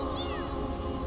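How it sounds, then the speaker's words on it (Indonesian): A small kitten's high, thin meows, a couple of rising cries over a steady low background hum. "Ini anak kucing, teman-teman."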